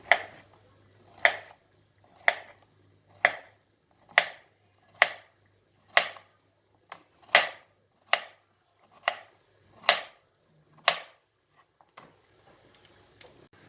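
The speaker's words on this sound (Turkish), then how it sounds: "Kabaklarımızı böyle ince ince doğruyoruz." Steady, evenly spaced knife chops slicing zucchini thinly on a cutting board, about a dozen crisp strikes in a regular rhythm, close up with no voices.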